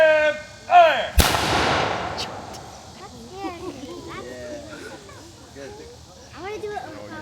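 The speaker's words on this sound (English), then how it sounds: "What we have here is what's referred to as a matchlock musket." A matchlock musket fires at a living history museum of an early colonial settlement, one sharp, loud blast followed by a long rolling echo, with birds chirping and people murmuring afterward.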